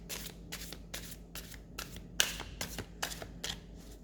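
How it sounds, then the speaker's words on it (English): Repeated quick riffles of playing cards, about eight short bursts in steady rhythm, close and crisp with no talking. "another shuffle to clean the cards"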